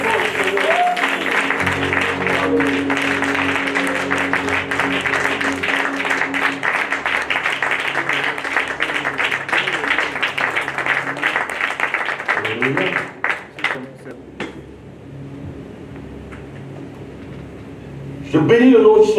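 A Sunday church congregation applauding loudly for about twelve seconds, dense sustained clapping with voices mixed in, then fading to a quieter room before a burst of sound at the end.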